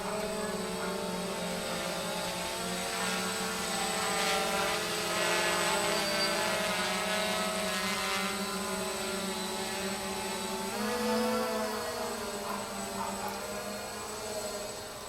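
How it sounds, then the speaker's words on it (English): A camera-carrying quadcopter drone flies continuously, its buzzing rotors producing a dense, wavering whine that shifts in pitch as it climbs, loud and close with no voices. "I used a quadcopter, a remote control aircraft, with a camera attached to the bottom of it"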